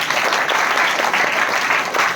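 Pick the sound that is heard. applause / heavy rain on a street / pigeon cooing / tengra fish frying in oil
applause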